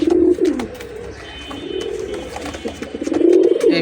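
A female Jhuma homing pigeon, one of a breeding pair, coos in low rolling phrases close by, with a strong burst at the start and another near the end and softer murmuring between.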